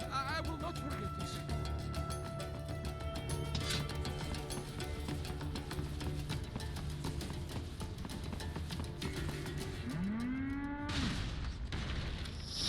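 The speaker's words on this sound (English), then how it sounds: "I don't know why they moo, but they do." Metal cow creatures in a video game let out deep, drawn-out mechanical moos among game sounds, including a rising mooing call near the end, while a player talks over the action.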